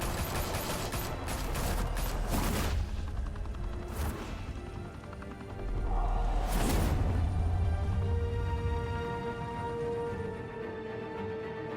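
Gunfire in a Batman Telltale game, several bursts of rapid shots and impacts with sharp cracks around two, four and seven seconds, set against a loud dramatic game soundtrack.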